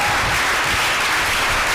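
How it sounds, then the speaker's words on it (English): Short burst of dense audience applause after a speaker's talk, a continuous wash of clapping with no voices. "A round of applause."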